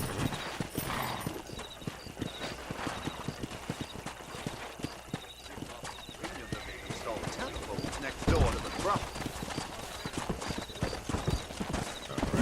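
Horse hooves clip-clopping in the Red Dead Redemption video game during a horse-wrangling scene, a steady run of hoofbeats with an occasional whinny, under ongoing character dialogue and ambient game sound.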